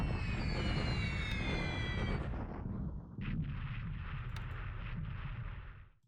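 Heavy bombing and flak fire over Kienko in the War in the Pacific strategy game, with four-engine bombers under fire: a dense, continuous low rumble of blasts and bursts that drops briefly, then roars on steadily before cutting off.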